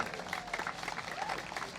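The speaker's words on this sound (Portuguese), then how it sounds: "Aplauso!" Audience applause during a ceremony honoring a performer's 65 years in show business, steady mid-level clapping from a crowd lasting a couple of seconds, with some faint voices mixed in.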